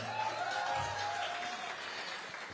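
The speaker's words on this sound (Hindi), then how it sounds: "इसलिए जोरदार ताली होनी चाहिए" Audience applause at a Bollywood film event celebrating the action film Pathaan, a steady wash of clapping from a large crowd with a voice faintly mixed in underneath.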